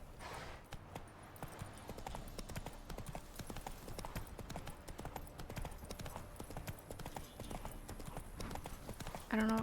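Roach, a horse in The Witcher 3, gallops with a steady, rapid run of clip-clopping hooves that continue throughout, fairly loud and close, with a brief whinny-like burst near the end.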